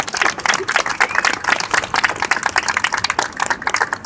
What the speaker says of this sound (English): Please join me in giving them a round of applause for all their hard work.